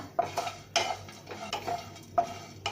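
Whole spices are dry-roasted over a low flame for homemade garam masala. A spoon stirs them in a pan, making dry rattling scrapes and taps in irregular bursts, close up and with no sizzle.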